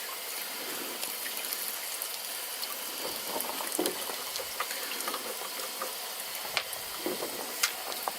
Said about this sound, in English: Just remove the filter pad, give that a good rinse out.